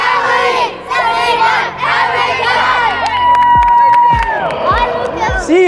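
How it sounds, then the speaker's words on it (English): A group team cheer shouted together, loud excited voices and whoops rising into a unison shout, with some clapping and thumps at the end. "All right, let's do the cheer."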